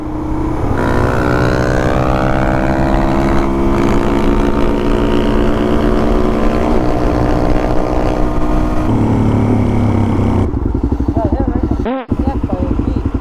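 A Suzuki DRZ400 and a KTM Duke 390 rev loudly close by, steady engine drones climbing and shifting in pitch through repeated revs, then a sharp burst and cut-off near the end, with people talking over the engines.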